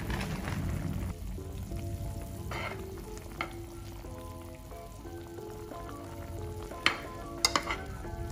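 A pot of pinakbet, a Filipino vegetable stew, is stirred, with soft scraping and liquid swishes over a gentle simmering sizzle, plus a few sharp utensil clinks near the end.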